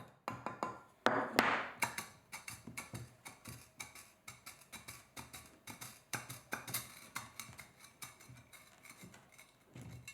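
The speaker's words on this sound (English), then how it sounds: "It takes some time, and I'm only really tapping gently, but eventually you'll hear it give, and the lid can be removed." Steady, gentle taps on a stuck lid of a large handmade pottery jar, giving a long series of sharp, close ticking knocks at an even pace, alone without speech.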